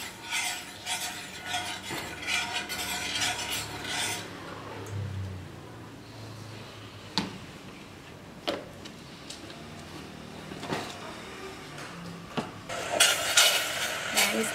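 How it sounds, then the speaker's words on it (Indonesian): Sugar and cherries are stirred in a pot for Vietnamese candied cherries, with a utensil scraping and clinking against the pot in repeated strokes, fairly close, and some quiet talk. "Kita aduk dulu."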